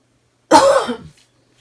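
One short, close cough, sharp and breathy, then silence.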